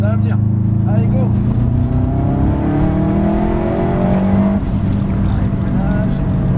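A Subaru Group A rally car with about 400 hp drives at speed, engine pitch rising and falling through gear changes with a loud, close-up roar, while someone talks over it.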